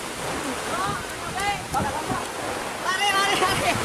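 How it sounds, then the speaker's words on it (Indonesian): Heavy rain driven by strong wind roars outdoors at a final-match prize-giving, a dense, surging wash of noise that swells and gusts, with faint voices mixed underneath. "terjadi hujan lebat yang disertai angin, petir"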